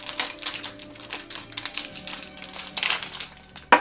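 A Fujifilm roll film package is torn open by hand, a close series of crinkly foil and paper rustles and crackles in irregular bursts, ending with a sharper snap, with no talking.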